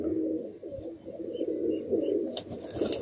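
Soft, low cooing from a pigeon sitting with fluffed feathers from a winter cold repeats steadily at close range, with a brief rustle near the end.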